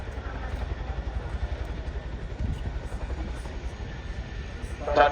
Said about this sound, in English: Touching down now, if you look to the rear, you'll see our crewman on the ramp, Flight Sergeant Dave Sims.